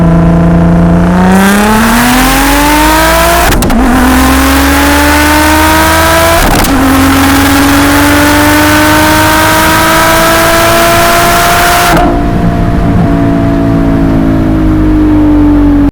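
A turbocharged car engine revs and holds at a loud, rising drone while brake boosting, climbing in pitch with brief sharp bursts before settling back down, steady and close throughout.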